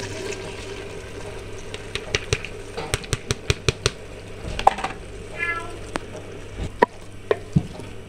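Cooked mash daal being stirred into masala in a pot, with a run of sharp spoon clinks against the pot and wet sloshing and sizzling, close and fairly loud.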